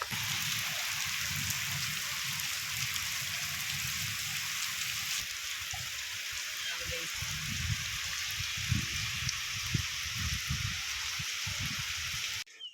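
Steady rain falls in a village during a heavy downpour with wind, a constant hiss throughout, while low voices murmur underneath in the second half.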